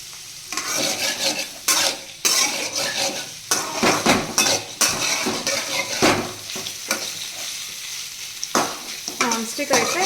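Vegetables fry in a pan on a home stove, a steady sizzle broken by repeated scraping and clattering of a spatula stirring against the metal, close and busy.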